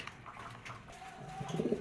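A Mundian pigeon in a loft gives a soft, low coo near the end, quiet and close, with faint background noise and no voices.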